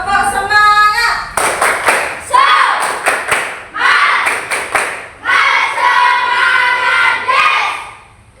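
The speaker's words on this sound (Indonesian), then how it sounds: "Biar tambah semangat, kita tepuk semangat." A classroom group of children claps a spirited rhythmic pattern, loud and close, with bursts of sharp claps in quick sequences separated by brief pauses, and chanting voices mixed in.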